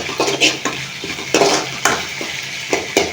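Mint chutney ingredients fry in a pan while a utensil stirs and scrapes in several separate strokes, each a short rasp over a low sizzle, close and clear.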